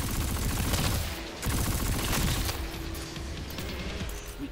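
Sustained gunfire in Destiny 2 aimed at yellow sacks, loud and close, with rapid overlapping shots in dense bursts, a short break, then more firing amid a steady hum.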